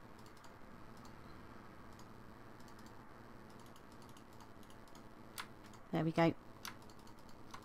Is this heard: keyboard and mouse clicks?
yes